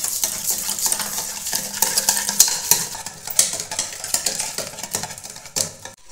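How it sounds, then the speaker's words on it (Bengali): Yogurt and two spoons of sugar whisked in a bowl for dahi vada, a steady run of quick scraping, tapping strokes against the bowl, close and fairly loud with no talking. "দইটা খুব ভালো করে ফেটিয়ে নেব।"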